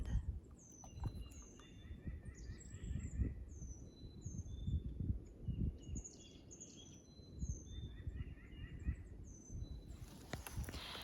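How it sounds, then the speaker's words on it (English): Several birds sing and chirp with bright, high trills nearby on the Appalachian Trail, over a low rustling outdoor background with soft footsteps. "I haven't heard birds in days"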